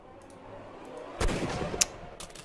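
A single gunshot from Watson in the Sherlock Holmes: Crimes and Punishments game cracks out at moderate volume, followed by a brief echoing tail and a fainter second report.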